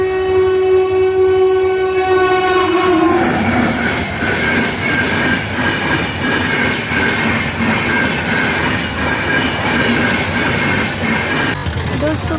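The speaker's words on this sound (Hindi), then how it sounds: "एक और ट्रेन आ रही है दोस्तों।" A train passes a railway crossing, opening with a long, loud horn blast and then a continuous near rumble and rattle of wagons rolling past.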